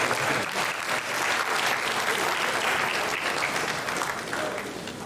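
At a university inaugural lecture, a large audience claps loudly and continuously, a thick, even wash of applause filling the hall without a break.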